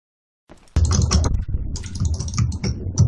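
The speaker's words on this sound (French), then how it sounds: "t'entends les clics de souris, tout ça" Computer mouse clicks come up close in quick, dense bursts, clattering unevenly like hurried tapping, after a brief silent start.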